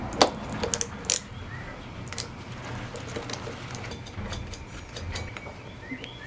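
Small metallic clicks, ratcheting and light tinkling of tools and parts while bolts and a nut come off a lawnmower carburetor lever, close but fairly quiet, sparse and irregular.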